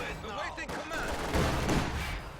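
Battle noise from Company of Heroes 2, where an M42 gun fires on infantry: a steady crackle of gunfire and rattling shots runs through the whole stretch at moderate loudness.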